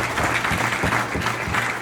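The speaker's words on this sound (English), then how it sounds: "you should stop and give a big round of applause to all of the youth who have been working so hard to put" A crowd at an annual community dinner claps for youth organizers, giving brisk, steady applause that sounds fairly close and fills the whole moment without any voices over it.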